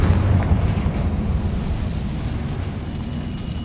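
Confringo fire spell blast in Hogwarts Legacy: a loud, deep rumbling explosion with a sharp onset that rolls on as a sustained low roar, no voices.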